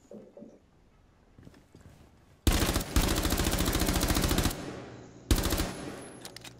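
Loud rapid automatic gunfire in the video game Rainbow Six Siege rattles in a long sustained burst, then stops, followed by another short burst; quieter clicks and movement precede it.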